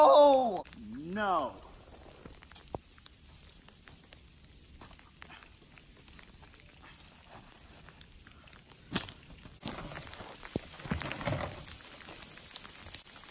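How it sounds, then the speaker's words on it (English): Freezing rain pours outdoors as a faint, steady patter that strengthens toward the end, with brief vocal sounds at the start. "It's literally pouring freezing rain."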